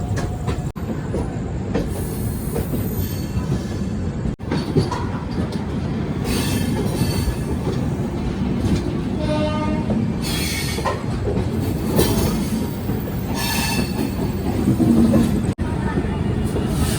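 An Indian express train passing on a railway near Muzaffarpur, a sustained loud rumble of wagons with rhythmic wheel clatter and occasional squeals running throughout.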